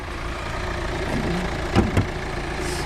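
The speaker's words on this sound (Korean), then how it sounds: "엔진 소리 한번 들어봐야죠" A used Kia Sportage R 2.0 4WD engine idles with a steady low hum, broken by a couple of brief louder bumps.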